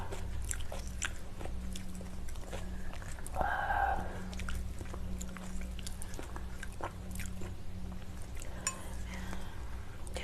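Salmon sashimi is eaten close to the microphone with soft wet chewing and faint clinks of cutlery against a dish over a steady low background hum.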